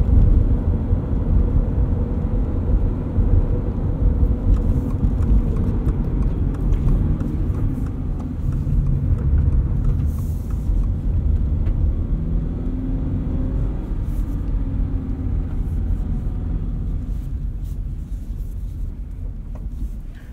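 A 2022 Subaru BRZ with a Pedal Commander throttle controller is driven in city mode, its engine giving a steady low rumble heard from inside the cabin, fairly even and fading slightly over twenty seconds.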